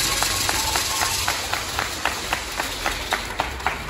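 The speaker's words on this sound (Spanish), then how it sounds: "Un aplauso." Rhythmic, evenly spaced hand claps from a crowd at an anniversary celebration of lancero dancers in Río Florido, Fresnillo, Zacatecas, sharp and regular over a steady low background hum.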